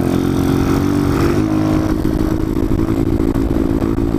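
A Honda CT70 motorcycle accelerating hard in third gear, its small engine loud and close with a steady, rising buzz held for the whole stretch, with no voices over it.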